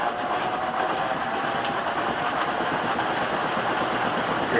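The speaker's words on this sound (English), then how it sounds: "It's off balance, you can hear it bouncing around." A Kenmore washing machine running off balance, its drum bouncing and knocking in a steady, continuous rumble that stays even and fairly loud throughout, with no voices.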